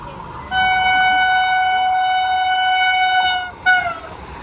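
A train horn sounds at Secunderabad railway station in the evening, one long steady blast lasting about three seconds, then a brief second toot, loud and near.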